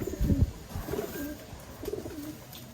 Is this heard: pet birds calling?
yes